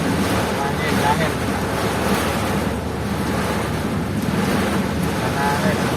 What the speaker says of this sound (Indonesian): Angin, angin.